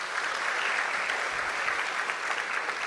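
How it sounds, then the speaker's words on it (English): Audience applause fills an honors convocation hall, a dense, steady wash of many hands clapping at once, loud and sustained without a break. "you can give yourselves a round of applause for that"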